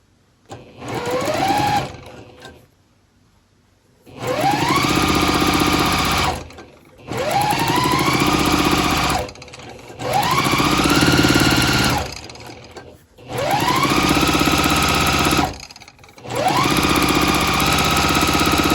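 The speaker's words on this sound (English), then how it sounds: "we're going to sew this last block to our row" A sewing machine stitching quilt blocks runs in five bursts of a few seconds each, its motor whirring up to speed and stitching rapidly, with short quiet pauses between.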